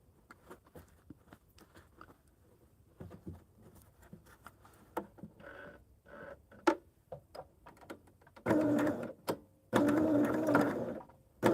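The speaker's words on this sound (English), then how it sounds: "we're going to stitch down this line" A sewing machine stitches down a quilt seam in bursts, short intermittent runs building to two longer sustained stretches of close, steady whirring near the end, with quiet handling clicks between.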